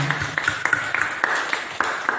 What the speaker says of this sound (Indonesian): Kita beri tepuk tangan yang luar biasa